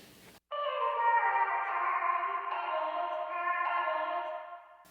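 Vocal samples run through reverb and stereo widener plugins, a sustained washed-out sung tone with heavy echo that swells in after a short silence, holds for several seconds and fades into a lingering tail.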